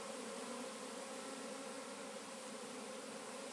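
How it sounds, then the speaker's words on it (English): A swarm of bees fanning after being caught in a tree, a dense, steady, close insect buzz filling the whole stretch without a break. "All those bees now fanning like mad."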